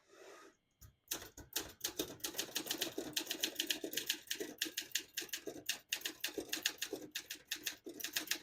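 Typing on a 1964 Olympia SM9 portable typewriter: a fast, steady run of crisp key strikes and typebar clacks following a brief pause, close and clear with no voices.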